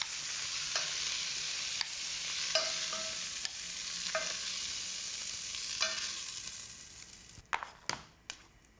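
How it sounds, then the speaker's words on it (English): Spices toasting in butter in a hot pan, a steady close sizzle broken by several sharp stirring clinks and scrapes of a utensil, ending with a few louder knocks. "I'm adding the spices to the pan and then just toasting those just a little bit."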